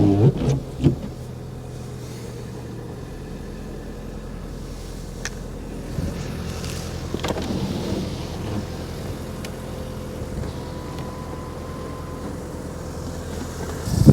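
A Volkswagen Lupo GTI, an import bought at a Japanese auction, idling steadily at close range after starting straight up, a low continuous engine hum with faint clicks and small bumps of handling noise.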